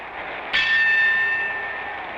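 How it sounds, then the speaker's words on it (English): A boxing ring bell strikes once to end the second round of a Muhammad Ali heavyweight fight, a sharp metallic ding that rings on and slowly fades over arena crowd noise. "There's the bell, and Williams is saved at the end of round 2."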